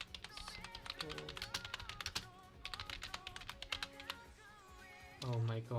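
Rapid, uneven taps of typing on a computer keyboard come in bursts with short pauses, close and fairly quiet, under music and a voice that cuts in near the end.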